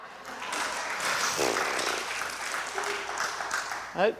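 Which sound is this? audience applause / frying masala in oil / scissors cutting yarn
audience applause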